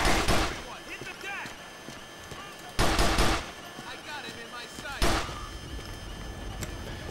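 Gunfire in the video game GTA: The Lost and Damned comes in three sharp, loud bursts spread a couple of seconds apart, each dying away into a busy in-game background.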